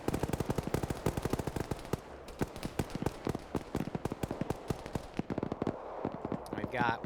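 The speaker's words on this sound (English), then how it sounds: "We've got one of the machine guns trying to turn my tracers back on." Rapid, sustained machine-gun fire from a hardcore combat simulation defending COP Keating, a dense, steady stream of sharp reports close by, with a voice speaking over the shooting near the end.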